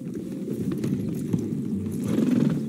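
Horse hooves clip-clop at a steady walking pace nearby over a low ambient rumble, with no talking, in the video game Red Dead Redemption 2.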